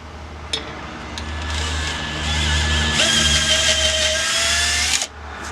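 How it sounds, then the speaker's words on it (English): A power drill bores a hole into a block of beech wood for a woodworm screw: a steady, close motor whine with grinding bite, rising and straining toward the end before cutting off abruptly. "we're going to drill a hole for a woodworm screw"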